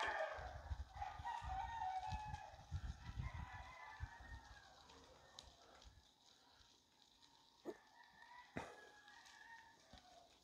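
Roosters crow along a town street, a few drawn-out calls early on over low rumbling background, followed by sparse faint knocks and clatter in an otherwise quiet outdoor setting.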